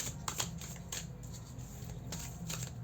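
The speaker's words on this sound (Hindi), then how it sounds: "I need to shuffle one more time." Tarot cards being shuffled at a reading, soft papery riffles and flicks repeating in a few quick bursts close to the microphone.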